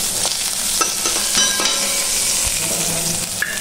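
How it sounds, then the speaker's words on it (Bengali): Brinjal slices fry in a pan, a loud, dense sizzle of hot oil with scattered crackles and the scrape of stirring, close and continuous without speech. "এই দেখো বন্ধুরা বেগুন ভাজা হচ্ছে"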